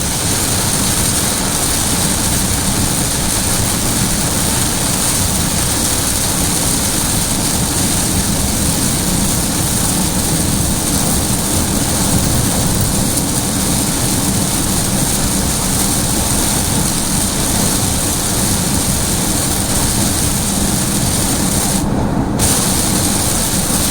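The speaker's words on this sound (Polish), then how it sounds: "Dawno takiej ulewy nie widziałem." A heavy downpour pounds a moving bus while driving, a loud, dense and unbroken roar of rain on the roof and windshield mixed with road and engine rumble, steady throughout with no talk.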